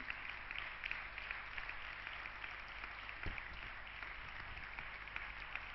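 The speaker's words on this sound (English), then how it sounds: "I request all of you to give a big round of applause to Karthik for such a wonderful and soulful" An audience on a campus applauds after a devotional music performance, a steady, even wash of clapping that sounds faint and distant throughout.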